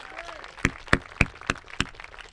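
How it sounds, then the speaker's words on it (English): A few people clap slowly at a Memorial Day ceremony, six distinct evenly spaced claps over about two seconds, close and moderately loud. "Let's give him a big round of applause."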